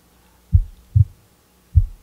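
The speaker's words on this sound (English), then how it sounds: "Figure out that moment when everything stopped and you heard your heart beating" Heartbeat sound effect, three deep, low thuds spaced irregularly across two seconds, the middle one a quick double beat, loud and isolated against near silence.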